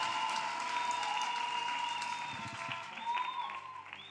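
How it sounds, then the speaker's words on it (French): A church congregation applauds steadily for about four seconds, a dense patter of many hands that eases slightly toward the end, with sustained tones and a voice faintly present underneath. "Clap for this victory."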